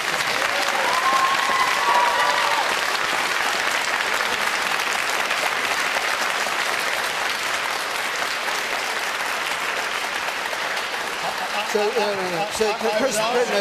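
A studio audience at a televised political debate breaks into loud, sustained applause that rolls on steadily for over ten seconds, with voices emerging near the end.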